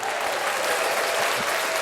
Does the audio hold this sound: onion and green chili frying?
no